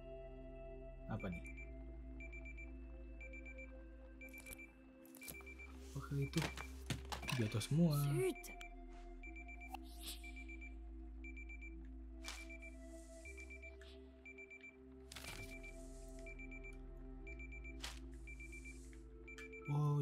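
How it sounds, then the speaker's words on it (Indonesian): A wristwatch alarm rings in the video game Dordogne with repeated thin electronic beeps that pulse steadily in the background, while a person talks and a clattering burst passes midway. "bener ada alarm waker gitu, ternyata jam tangan ya"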